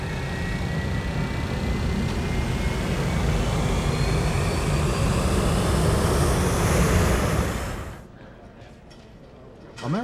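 A large jet airliner, bigger than a 757, sweeps past very close, a loud rushing roar with a falling whine that cuts off sharply near the end, leaving quiet air.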